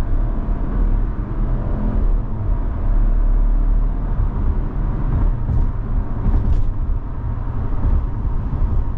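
A 2023 Chevrolet Trailblazer Activ AWD accelerates up a ramp onto Route 1, heard from inside the cabin as a steady, loud low rumble of engine and road noise with no talk.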